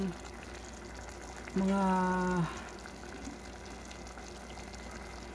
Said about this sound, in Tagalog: Ayan, buhos ko na yung tubig.